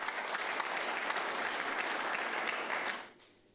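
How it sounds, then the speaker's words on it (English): Dense applause from a large audience at a petroleum summit in Nigeria, steady and loud for about three seconds before quickly dying away. "Can we give them a round of applause, please?"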